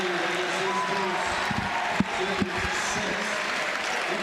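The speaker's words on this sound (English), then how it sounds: "Listen to this crowd." Crowd at a men's NCAA Division III college basketball game, Hope vs. Wisconsin-Platteville, a steady roar of cheering and noise in the gym with a couple of sharp thuds, heard over faint background voices.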